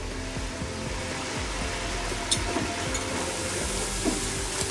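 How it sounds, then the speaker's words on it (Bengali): Ground spices including red chilli, roasted cumin, kabab masala and coriander powder sauté in a pan with salt, a continuous close sizzle with faint rhythmic stirring scrapes and a couple of light clinks, no talk. "সব মশলা খুব সুন্দর করে আমি এখন কষিয়ে নিচ্ছি"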